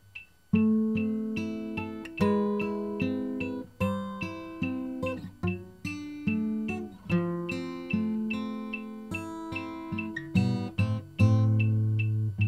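A guitar plays a riff at a quicker pace, with a steady run of plucked notes and chords ringing clearly and evenly throughout, no voices.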